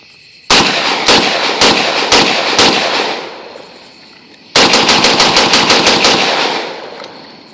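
Rapid rifle fire from a PWS FSC 556 with a Battle Comp muzzle device on an Arsenal, two loud close strings of sharp cracks, about five shots and then about ten, with ringing decay between and no talking.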